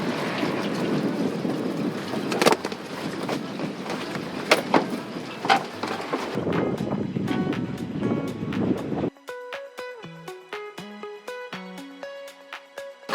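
Wind blows across the microphone as a 30 ft sailboat leaves the dock, a rushing gusty roar with knocks and rattles, then it cuts away to a quieter stretch with music playing.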